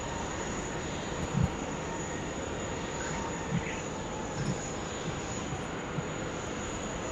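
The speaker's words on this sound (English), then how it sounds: "now we've got a Velocity 738 coming on to 16 right, is going to be our departure to Melbourne." A Velocity Boeing 737-800 departing Sydney Airport on runway 16 right, heard as a steady, fairly distant broadband jet roar that holds evenly throughout, with a faint insect-like high hiss and a few soft knocks over it.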